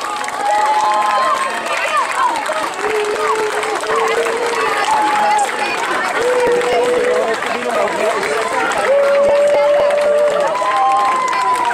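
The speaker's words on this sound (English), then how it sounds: "Both teams a huge round of applause for probably the best game we've ever seen played here" Crowd at a McLean Little League championship game applauding both teams: steady clapping and cheering throughout, with someone talking over a loudspeaker on top.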